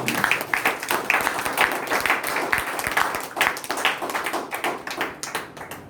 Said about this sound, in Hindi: प्रभु के लिए ताली बजाओ